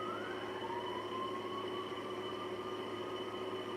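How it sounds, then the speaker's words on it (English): A distant siren wails steadily over a constant low rumble of traffic or rail noise, its pitch sliding slightly as it carries on. "You hear that siren?"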